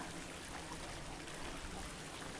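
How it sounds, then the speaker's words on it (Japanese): A small stream flows beside a steep stone stairway on a hillside walk near Mount Fuji, giving a steady, close, even rush and trickle of water with no voices. "あ、水の音っていいでしょ、癒されるでしょね"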